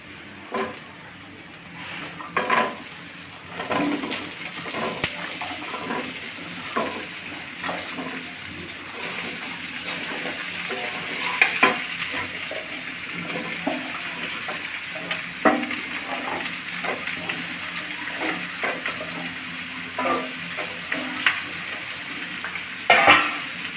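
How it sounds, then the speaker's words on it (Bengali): Chopped potato, pumpkin and Malabar spinach stems sizzle in a pan with a steady wet hiss, punctuated throughout by clinks and scrapes of stirring. "এই যে পুয়ের ডাটা আলু আর মিষ্টি কুমড়ো কেটে ধুয়ে নিয়েছি এখন দিয়ে দিচ্ছি"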